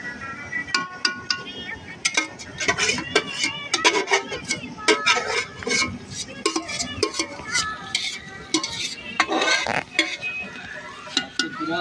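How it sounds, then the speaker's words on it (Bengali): Meat being stir-fried in a pot at an outdoor Bengali New Year picnic, heard as repeated clanks and scrapes of a metal spoon against the pot with a faint sizzle underneath and people talking in the background. "এবার দেওয়া হচ্ছে মাংস, মাংস কষানো পর্ব চলবে এবার।"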